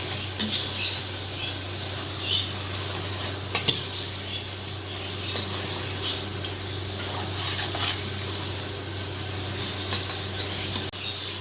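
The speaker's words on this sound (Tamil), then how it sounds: "இது வந்து 5 நிமிஷம் நல்லா கொஞ்சம் அப்படியே கிளறி விட்டுக்கிட்டே இருக்கணும்." Chicken for biryani stirred in a pot over a steady background sizzle, with intermittent spoon scrapes and clinks against the metal, close and moderately loud throughout.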